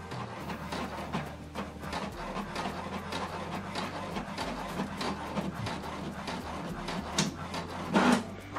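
An HP Deskjet inkjet printer runs steadily nearby, a continuous mechanical whir with repeated clicks and soft shuffling as paper feeds through.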